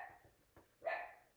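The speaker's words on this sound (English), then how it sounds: "Sorry about the dog barking in the background" A dog barks in the background during a math lesson, a couple of short, faint yips and a sharper bark, heard alone at a distance.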